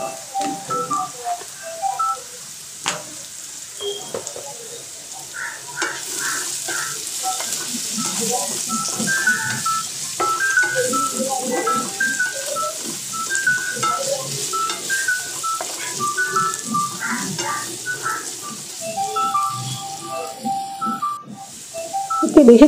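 Cumin and coriander powder frying in hot oil in a pan, a loud, steady close sizzle with bubbling crackles and hiss throughout, a clatter near the end.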